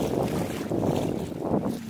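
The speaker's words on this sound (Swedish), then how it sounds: "Ska vi se om vi får lite en vindpust." Wind rushes steadily across the microphone while stand-up sailing on open water, a continuous broadband roar with slight swells in strength and no voices.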